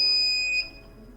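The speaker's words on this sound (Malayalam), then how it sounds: "നമ്മൾ അമർത്തുമ്പോൾ ബോൾ പൊന്തുന്നതും അവിടെ ബസർ ഓൺ ആവുന്നതും" A homemade water overflow alarm's buzzer gives a loud, steady electronic tone that cuts off after about half a second, leaving a faint background hum.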